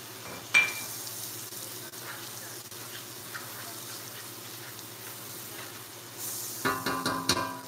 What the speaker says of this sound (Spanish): Ya le pusimos el ajito. Ahora le vamos a poner un poco de mantequilla.